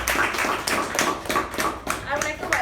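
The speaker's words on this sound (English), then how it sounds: "can we have a big round of applause for Toastmaster Pavani?" A Toastmasters club audience claps in a steady round of applause, moderately loud and fairly close, with the hand claps forming a brisk, even patter throughout.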